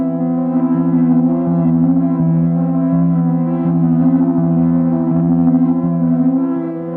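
A sustained synth chord through a cassette tape effect, with a warm, slightly wobbling lo-fi tape character, steady and fairly loud, pulsing gently throughout without any talking.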